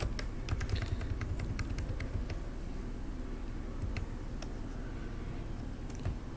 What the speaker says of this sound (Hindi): कीबोर्ड से हम शिफ्ट माइनस प्रेस कर लेंगे।